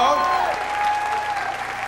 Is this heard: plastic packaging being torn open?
no